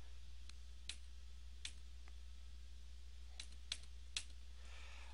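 Computer keyboard keys pressed one at a time, arrow and tab keys, giving sparse sharp clicks at irregular intervals over a quiet low hum, with a few taps bunched near the end.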